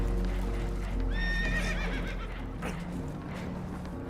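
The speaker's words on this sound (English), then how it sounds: "Horses are spooked" Spooked horses whinny and neigh in Red Dead Redemption 2, a shrill rising call sweeping through the middle of the clip over steady rumbling game ambience and low background noise, with no talk.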